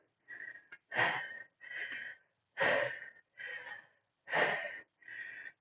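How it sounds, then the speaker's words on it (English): Heavy, deliberate breathing during a heart-rate and core workout, with six loud close breaths alternating between longer rasping inhales and exhales, evenly spaced and separated by brief silences. "Big inhales, big exhales."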